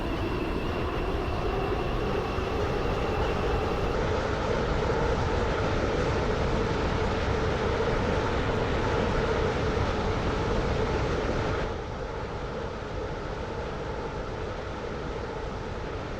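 A Stepford Connect train runs in the Stepford County Railway game, a steady loud rumble with droning tones holding throughout, easing slightly near the end.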